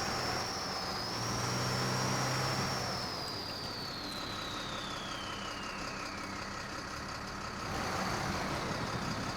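A Boss Hog RS F350 truck in Expeditions: A MudRunner Game, its engine holding a steady, loud drone while a high whine slowly glides downward; no voices.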